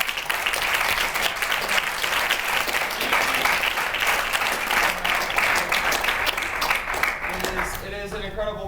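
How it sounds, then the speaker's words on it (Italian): An audience gives a sustained round of applause for the speakers at a business seminar in Milan, dense clapping filling the room steadily from start to finish before it thins slightly at the end. "First, I just want to give another round of applause to the speakers."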